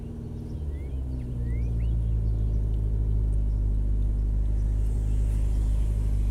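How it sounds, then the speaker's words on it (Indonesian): A car pulls up and idles in front of a house, its low engine rumble swelling slightly and then holding steady and close throughout. "Ada mobil yang berhenti di depan rumah itu."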